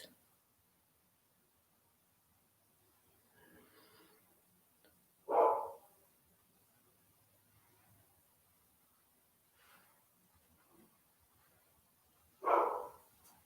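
A dog barks from behind several closed doors, two short muffled barks spaced well apart, distant and faint against a quiet room, with soft murmuring in between.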